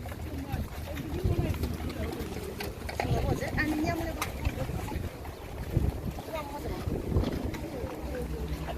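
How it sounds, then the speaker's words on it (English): Wind gusting outdoors at a park station, a continuous rumbling buffet against the microphone that swells and eases, with voices talking over it. "Look at the trash fly with the wind."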